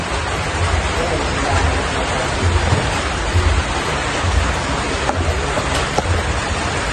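Rain falls steadily in a rural province setting, a dense, even hiss with low rumbling underneath and a few faint knocks, continuous throughout.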